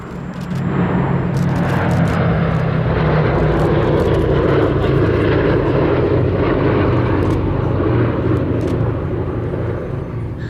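Vintage aircraft flying at the Duxford Battle of Britain air show, a steady loud engine drone that holds continuously throughout with little change.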